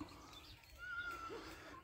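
A donkey in a park, heard as a single drawn-out bray or whinny-like call of moderate loudness, rising over faint outdoor ambience.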